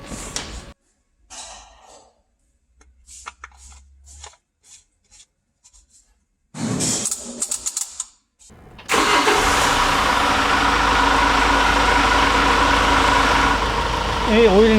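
Kia Bongo 3 truck diesel engine being started after an oil and fuel filter change: scattered clicks and a cranking burst come first, then the engine catches and settles into a loud, steady, close idle for the rest, with speech early on.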